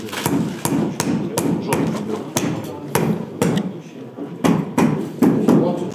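Hammer tapping arthroscopic fixation anchors at a hands-on surgical workshop, a fast run of sharp knocks in an irregular rhythm, close and fairly loud, mixed with people talking over them.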